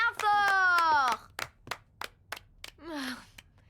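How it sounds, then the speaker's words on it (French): Audience clapping for a circus act in a children's cartoon, a few sharp separate claps in a sparse rhythm, mixed with a cartoon voice and rising sung tones. "On l'applaudit bien fort."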